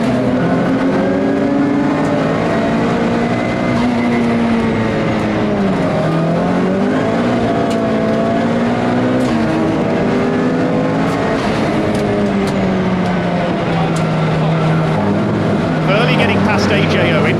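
Touring race cars at Brands Hatch on a sunny Easter Sunday pull away from a rolling start for a 15-minute race, engines droning and rising in pitch as they accelerate together, loud and continuous. A commentator talks over the engines.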